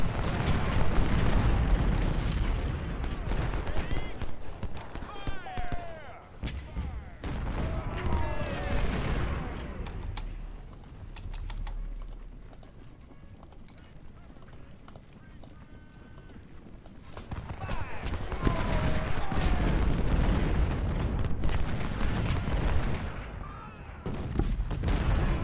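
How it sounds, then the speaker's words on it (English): Artillery fire in the video game Ultimate General: Civil War, booming cannon shots and gunfire rolling through a busy battle din with hoofbeats, while a voice talks over it. "we got some artillery here too"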